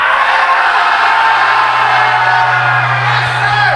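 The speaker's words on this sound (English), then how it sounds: "I want all of you to scream" A large audience at a Miami business event screams loudly on cue, a dense sustained roar of crowd voices and whoops from start to finish.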